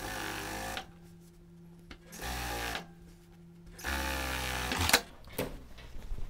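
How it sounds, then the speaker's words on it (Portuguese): Sewing machine topstitching close to the seam edge of a double yoke on a woman's shirt, running in three distinct bursts with short pauses between, followed by a couple of sharp clicks near the end. "vou pespontar bem rente à borda de montagem aqui pelo lado direito"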